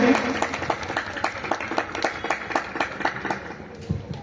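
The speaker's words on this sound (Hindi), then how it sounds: "एक बार जोरदार तालियां" Loud applause from an audience at a religious discourse gathering, honoring the event's chairman; close, rhythmic clapping with distinct sharp claps throughout, gradually settling into individual hand claps.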